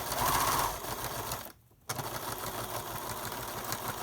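A sewing machine back-stitching a T-shirt face mask strap, a steady close motor whir that cuts out briefly midway, then resumes running.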